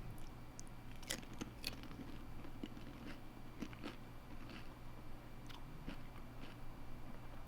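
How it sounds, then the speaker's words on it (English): Someone chews a spicy mint snack up close. Soft crunches and wet mouth sounds come in an irregular rhythm over a quiet room background, with no speech. "I'm still chewing"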